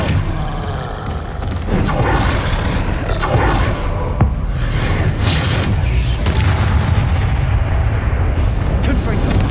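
Spell-casting in Hogwarts Legacy, with dense booming blasts and rumbling magical impacts, loud and continuous over a busy game soundscape, with speech mixed in.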